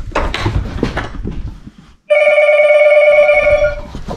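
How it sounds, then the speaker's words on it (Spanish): Old telephone in an abandoned French house rings with a loud, bright, continuous bell tone lasting about two seconds, cutting in abruptly after a brief hush, with people talking and moving before it. "Sonó el teléfono"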